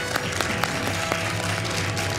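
Steady, fairly faint applause from a small TV quiz show audience, a continuous patter of clapping with a few sharper claps.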